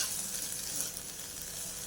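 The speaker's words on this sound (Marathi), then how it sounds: "आता ही आपली भाजी शिजते दोन मिनटात आपली भाजी शिजून तयार होणार आहे" Chickpea leaf greens cooking in a hot pan on a gas flame, a steady broadband sizzle and frying hiss with faint stirring, continuous and close, with a brief louder burst at the very end.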